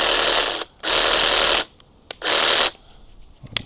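An Ozito cordless reciprocating saw runs in two loud bursts of about a second each, with short clicks and quiet pauses between them.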